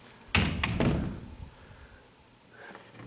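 An interior door in a house is swung and bumped shut, giving a few sharp thuds and knocks close by, then a softer scrape as it rubs and settles into quiet.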